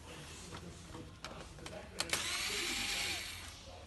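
Plastic threaded screws being unscrewed from a toner hopper plate, a few small clicks and scraping turns over a steady background hiss, close and quiet.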